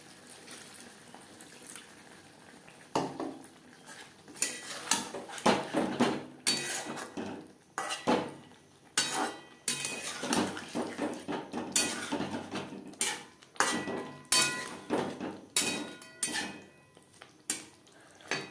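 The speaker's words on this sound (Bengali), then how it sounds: "মশলার সাথে ও আলুর সাথে পনির বেশ ভালো করে মিক্সড করে দেবো।" Paneer being tossed with potatoes and spices in a pan for a vegetarian aloo paneer curry, heard as repeated close scraping and clinking of a spatula against the pan in uneven bursts, with no talking.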